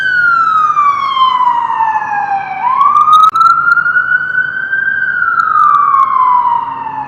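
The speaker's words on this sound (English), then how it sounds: "I'm trying to cover you from the ambulance sound right now." Ambulance siren passing close by, a loud wailing tone sweeping down and up, dominating a quiet street background.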